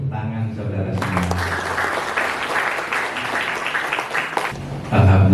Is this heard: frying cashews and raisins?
no